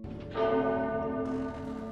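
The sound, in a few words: warning bell ringing in the film Rango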